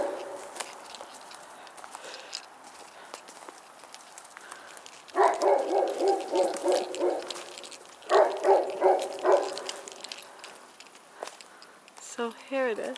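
A dog barks repeatedly in dark woods near an abandoned chalet, two bursts of rapid barking mid-clip, fairly distant, over footsteps and quiet voices.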